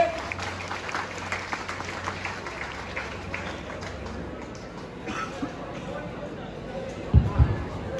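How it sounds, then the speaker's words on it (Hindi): Crowd applause at a strike rally, moderate clapping that spreads and fades over several seconds, with a few louder knocks near the end. "जोरदार तालियों से इनका स्वागत कीजिए भाई,"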